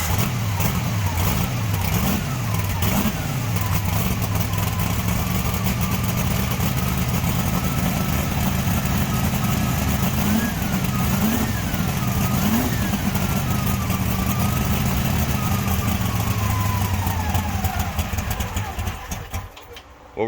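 Twin-plug Pro-Stock 426 Hemi drag engine runs loud and close, a rough, lumpy idle broken by repeated sharp revs and falling pitch, continuous for about twenty seconds before fading at the end.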